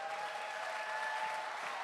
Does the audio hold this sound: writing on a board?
no